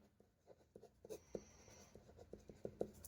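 Pen writing on paper while working a class 7 maths statistics problem on the mean, soft close scratching strokes in short irregular bursts, quiet and without speech.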